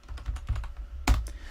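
Rapid typing on a computer keyboard while entering game code, a quick run of close, crisp key clicks ending in a louder burst of keystrokes, heard alone without talk.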